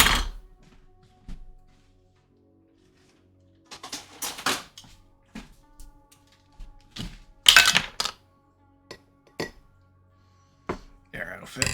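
Scissors snip through sprigs of rosemary and thyme in a home kitchen, a few scattered close crisp cuts and clicks between handling noises, with short bursts of talk in between.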